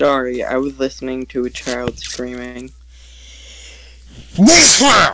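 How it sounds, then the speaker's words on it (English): A single loud, close sneeze bursts out near the end, following a stretch of someone talking and a short quiet pause. "That was a sneeze."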